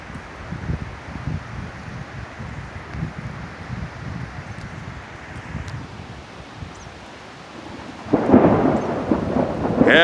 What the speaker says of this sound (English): yeah, it went to thunder.